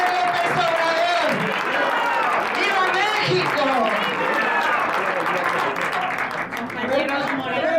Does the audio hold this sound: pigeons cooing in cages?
no